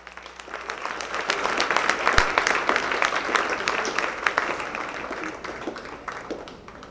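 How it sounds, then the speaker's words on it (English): Audience clapping at a Dodge County Fair dairy showmanship contest, honouring the supreme and reserve dairy showmen: a dense, steady round of applause from a crowd, swelling quickly, holding for several seconds, then thinning toward the end. "Give them one more round of applause."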